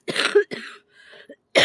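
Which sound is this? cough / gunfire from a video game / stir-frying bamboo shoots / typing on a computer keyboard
cough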